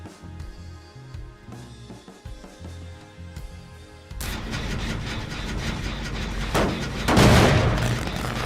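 Generator overcharging and exploding in the video game Dead by Daylight, a sudden loud crackling burst about halfway through that swells into a harsher blast near the end, following quieter game ambience.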